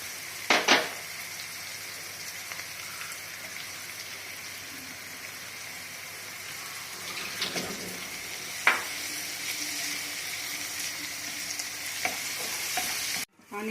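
Onions fry in a pan with a steady, dense sizzle that holds throughout, broken by a few sharper scrapes and clatters of stirring, close and fairly loud with no talk.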